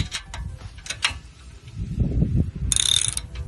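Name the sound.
17 mm ratchet wrench turning a shock absorber bolt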